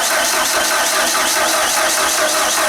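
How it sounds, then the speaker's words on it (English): A Genie boom lift's flooded engine is cranked hard at wide open throttle with no choke, a loud continuous churning roar that runs steadily through the whole stretch without catching. "we're just gonna do wide open throttle with the yellow pull string, no choke."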